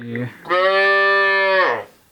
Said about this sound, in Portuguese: A vaca acabou de entrar sozinha.